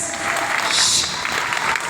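A crowd at a social welfare association media awards event applauds in a dense, steady burst of clapping, loud and close, with some voices mixed in.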